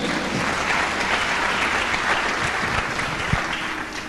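A church congregation claps and applauds through a sermon, steady dense clapping filling the space, with scattered louder claps near the end and no clear speech.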